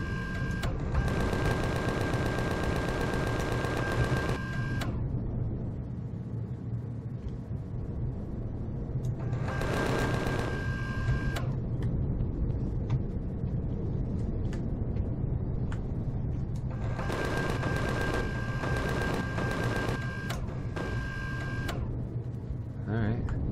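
Bursts of rapid automatic gunfire in the game Empyrion Galactic Survival on an arctic planet, three loud volleys of several seconds each over a constant engine rumble, with a player's voice talking in between.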